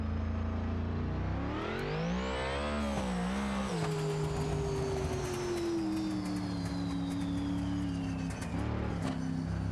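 A 2,000-horsepower car in BeamNG running on a track with skinny front and fat rear tires, its engine revving up in a rising roar, then holding a steady loud drone as it pulls away, with a high whine overhead.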